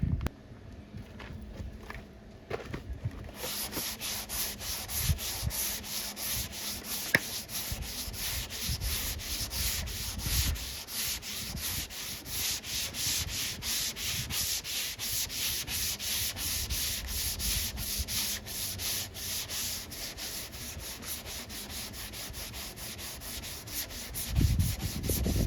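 Worn sandpaper on a sanding block rubs over primer on the body of a Plymouth Scamp, a continuous close, coarse back-and-forth scratching that runs nearly the whole time with no speech.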